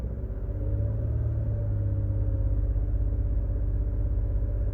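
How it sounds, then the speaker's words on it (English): Jeep with a ZF 8HP automatic transmission held at about 2,000 RPM to fill the torque converter: a steady, loud low engine drone and rumble that holds constant throughout with no talking. "what you're going to do is you're going to rev it up for about"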